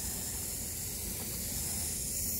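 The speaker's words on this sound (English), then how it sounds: "I'll get them a spray down." A garden hose sprays water over pepper plants during an early morning watering: a steady, even hiss of spray runs unbroken through the whole stretch, fairly close, with no talking.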